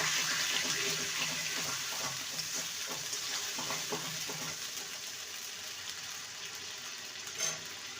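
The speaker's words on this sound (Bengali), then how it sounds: "কাঁচা লঙ্কা বাটা ভালো করে কষিয়ে নেব" Ground green chili paste frying in a pan for a vegetarian potato dum, a dense continuous sizzle with scattered scraping stirs, loudest at the start and easing slightly toward the end, close up.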